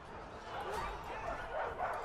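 War dogs bark and yip in a Total War Arena battle, several brief barks recurring over a busy game soundscape, with someone talking over them.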